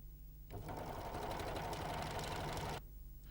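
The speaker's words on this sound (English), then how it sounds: "Place the edge to be sewn under the presser foot and sew." A Janome 6234XL overlocker sews a rolled hem in one steady, fast, rattling run of about two seconds. It starts and stops cleanly against a quiet room.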